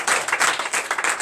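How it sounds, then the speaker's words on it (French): A church congregation applauds during a night service of deliverance and prophecy, a short burst of brisk, rhythmic group clapping in quick pulses, close and fairly loud. "Donnez l'acclamation à notre Seigneur."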